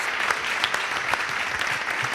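Studio audience applauding during a Spanish TV interview with Cristina Medina, a steady dense patter of many hands clapping at close range, sustained throughout with a few faint voices underneath.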